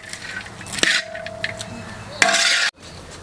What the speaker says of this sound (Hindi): जी तो अब हम इसको अच्छी तरह मिक्स कर देंगे।